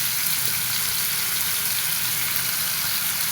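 Potatoes fry in hot oil with a dense, even hiss of sizzling that stays steady and close throughout, without talk.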